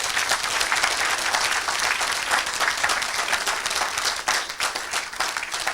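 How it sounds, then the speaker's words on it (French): A church congregation applauds for Jesus during a deliverance service, with steady, dense clapping from many hands filling the room throughout. "Acclamez pour Jésus."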